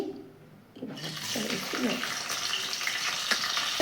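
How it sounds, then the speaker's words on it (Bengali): A fish head drops into hot oil and sets off a sudden sizzle that holds steady and close, with a few stirring clatters, for a pumpkin curry with fish head. A voice is faintly present beneath the frying. "মাছের মাথাটা ভালো করে ভেজে নেব"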